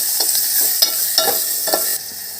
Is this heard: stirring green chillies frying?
yes